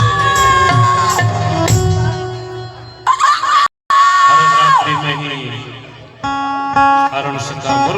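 During a Ramlila stage performance at a Durga temple in Govindpur, Dhanbad, a performer's voice imitates a rooster's crow in a few drawn-out, wavering calls, loud and close, amid stage music and crowd noise.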